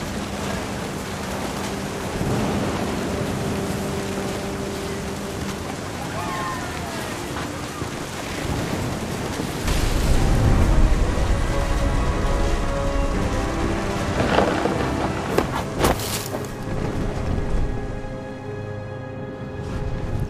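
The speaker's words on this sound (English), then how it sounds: "The thunder sounded much too close and full of angry power" Steady rain hisses over a stormy seaside scene in the video game What Remains of Edith Finch, with a deep rumble of thunder swelling midway, while a voice narrates over it.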